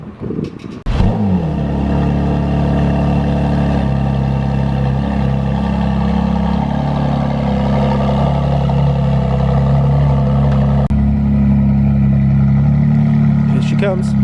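A McLaren Artura sports car pulls in with a loud, steady engine drone and rumble that holds close and constant for most of the clip, with a brief rev at the start.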